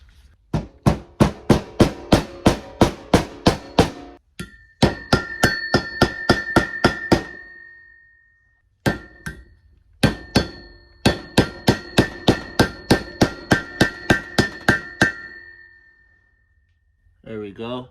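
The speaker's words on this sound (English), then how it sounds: "it's easier if I use the metal side to hit the socket" Rapid series of sharp metallic hammer strikes on a metal socket seating a seal, in bursts, ringing tones rising as blows continue, with short pauses between volleys.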